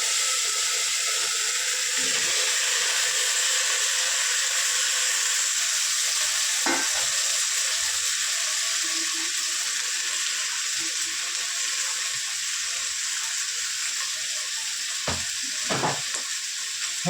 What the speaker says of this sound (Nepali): अब मैले सबै भेजिटेबलहरु फ्राई गर्दैछु हैन।